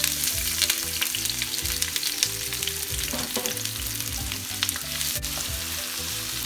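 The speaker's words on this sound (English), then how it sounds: "Now we're gonna throw our 2 sliced onions in there with 3 diced garlic cloves." Two sliced onions and three minced garlic cloves fry in hot oil, a loud close sizzle crackling continuously with occasional stirring scrapes and no talk over it.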